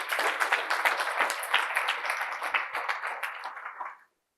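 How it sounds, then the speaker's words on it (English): An audience at a memorial lecture bursts into applause, a dense, lively clapping that holds for about four seconds before stopping abruptly. "Let's give them a round of applause again."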